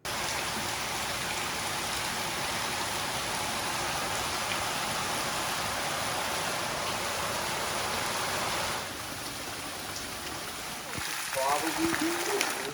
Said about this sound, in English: the rain became a lot more intense